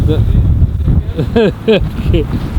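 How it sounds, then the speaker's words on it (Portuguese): Strong wind sweeps Omaha Beach in Normandy, a loud, constant rumble buffeting the microphone, while a voice speaks in short phrases over it. "Vento, vento, vento, vento, areia na cara, areia na cara."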